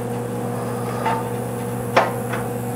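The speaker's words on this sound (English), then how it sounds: "Oh, it just dropped a big clump in." A self-igniting pellet stove runs with a steady hum as its auger drops pellets, giving a few close, sharp knocks and a louder clunk of a clump landing.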